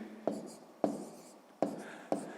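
Pen writing in a notebook while working a sixth-grade maths exercise, four sharp strokes spaced about half a second apart, close and clear with a soft scratchy texture between them.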